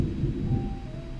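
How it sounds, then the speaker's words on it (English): Low, deep rumble of thunder rolling steadily through a rainy day, a continuous muffled boom filling the low end at moderate level with no voices. "Can you hear the thunder?"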